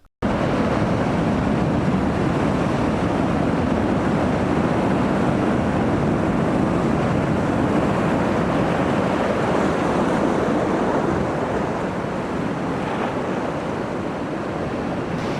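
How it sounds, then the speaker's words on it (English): Loud, continuous roar of sea surf breaking on the west coast shore at sunset, steady and broadband throughout with some wind buffeting; no voices. "The sea here is really, really loud"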